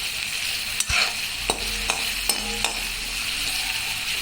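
Onions frying in a pan for puffed rice chivada give a steady close sizzle, broken by a few sharp stirring knocks and scrapes of the spoon.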